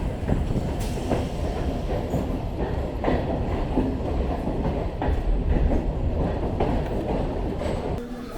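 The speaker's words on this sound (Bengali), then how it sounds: "অবশেষে ট্রেন প্রবেশ করল আদ্রা জাংশন।" A train pulls into Adra Junction station with a steady rumble and rhythmic clickety-clack of wheels over rail joints. The sound is close and continuous, with no speech.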